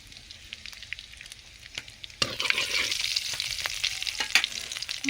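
Black cumin seeds drop into hot oil for tempering during a prawn and taro flower recipe. A quiet crackle builds into a loud, dense sizzle with scattered sharp pops, close by and with no talking.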